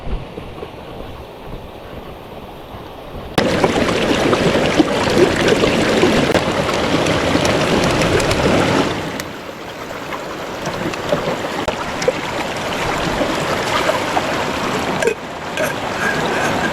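River water rushing steadily near the microphone at a riverside camp stop, a broad continuous wash with some wind buffeting and a brief drop in level midway.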